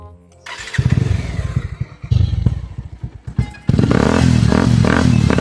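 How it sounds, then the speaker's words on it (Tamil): A motorcycle engine is cranked and started nearby, with a few chugging bursts and thumps before it catches and settles into a loud, steady running idle. "வண்டியை ஸ்டார்ட் பண்ணு"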